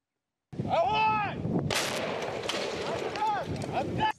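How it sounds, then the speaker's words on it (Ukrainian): A heavy booming blast of heavy weapons fire and explosions erupts and rumbles on at an airport battle, following a brief voice-like cry; another short cry comes near the end. "Вибухи, залпи важкої зброї, клуби чорного диму."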